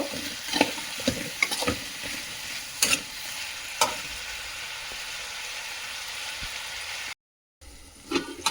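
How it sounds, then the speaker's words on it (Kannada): Eggplant pieces cooking in a pan for vangi bath, a constant sizzle with spoon scrapes and clinks, frequent at first and thinning out, then a short gap of silence before frying resumes. "ಇದು ಸ್ವಲ್ಪ ಹೊತ್ತು ಬದನೆಕಾಯಿ ಬೇಯಬೇಕು."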